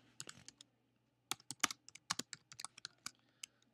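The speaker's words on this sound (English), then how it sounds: "Make sure you type it in just like this." Typing on a computer keyboard, quiet clusters of quick key clicks in short bursts separated by brief pauses, close and alone with no voices.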